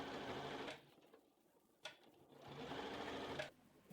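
A sewing machine runs close up while top stitching the seam allowance into a doll skirt waistband, whirring in two bursts with a short pause and a click between them.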